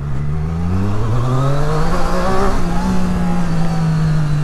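A 2022 Triumph Street Triple RS motorcycle accelerates hard, its engine note climbing steadily in pitch. The sound is loud and continuous, with no voices over it.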